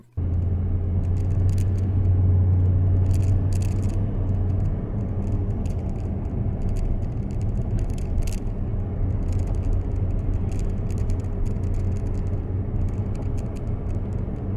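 A camera clipped to its side hooks rattles inside a moving 2021 Toyota Tundra TSS 4x4, giving irregular light clicks and ticks over a loud, constant low road and engine rumble.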